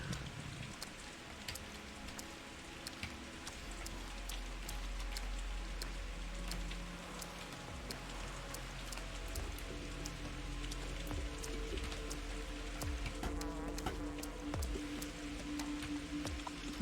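Steady heavy rain pours down across a game world in the survival horror game Pathologic 2, a dense continuous hiss with scattered sharper drops and low rumble, no voices over it.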